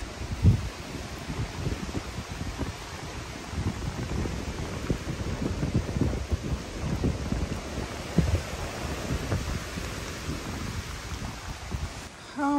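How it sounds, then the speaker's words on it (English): Storm wind blows across a mountain ridge on the Appalachian Trail, a constant rough rumble with gusts buffeting the microphone, loud and close throughout, with no talking. "I don't think the wind's quite as bad, especially right here where I'm at."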